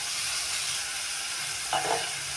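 Masala sweet corn being stirred with garam masala, chilli powder, chaat masala and pepper in a pan, a steady sizzle with a brief scraping stir near the end, close and alone.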